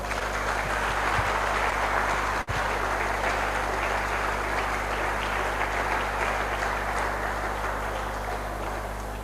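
Steady applause from the audience at a book presentation welcoming filmmaker Kunle Afolayan, a continuous clapping wash over a low hum, with one brief dropout near the start.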